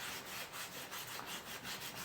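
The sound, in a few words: scrubbing rust off a cast iron griddle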